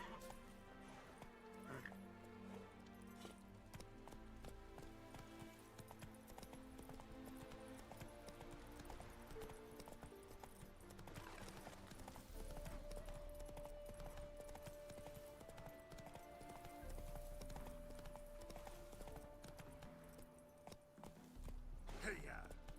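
Horse hooves clip-clopping from Roach, Geralt's horse in The Witcher 3 video game, a steady walking rhythm of hoofbeats under game music and a voice speaking.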